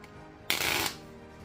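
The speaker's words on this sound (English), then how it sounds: "Give them a quick shuffle." A single quick riffle of playing cards, a short crisp burst of papery flutters lasting under half a second against quiet room tone.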